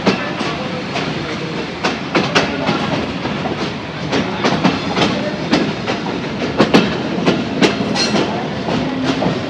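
An Eid special passenger train running from Joydebpur to Parbatipur in Bangladesh, a loud steady rumble with rhythmic clickety-clack of wheels over rail joints, heard close from on board.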